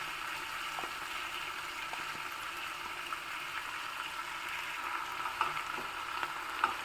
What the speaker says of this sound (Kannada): ಚೆನ್ನಾಗಿ ಎಣ್ಣೆಯಲ್ಲಿ ಫ್ರೈ ಆಗಿದೆ ಈಗ ಅದಕ್ಕೆ ನಾವು ರುಬ್ಬಿರುವಂತಹ ಮಸಾಲೆ ಮಿಶ್ರಣವನ್ನು ಹಾಕ್ಕೊಳ್ಳೋಣ